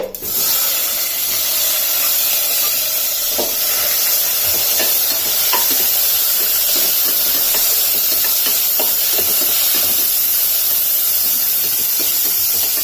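Mustard seeds and onions sizzle in hot oil, a loud, continuous hiss with scattered small pops and crackles lasting throughout, no voices.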